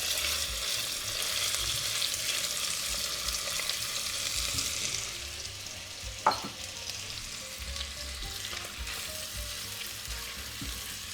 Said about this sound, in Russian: И в масло мы высыпаем кусочки мяса.